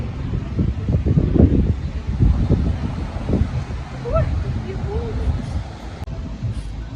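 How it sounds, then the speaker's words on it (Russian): Steady wind blows across an Odessa beach in Arcadia on a cool early-summer day with an easterly breeze, a continuous rushing roar with low gusty buffeting throughout, with faint distant voices and bird calls. "здесь прям ветер"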